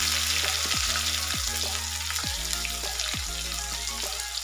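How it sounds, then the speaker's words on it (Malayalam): Sliced onions frying in oil after mustard seeds and fenugreek have popped for a fish curry, a dense continuous sizzle with a low hum and a few sharp clinks of a spoon. "സവാള ഇട്ട് കൊടുക്കും"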